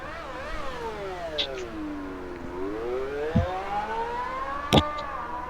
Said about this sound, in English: This is when F1 was F1. The last time. Nice big high winding engine sounds.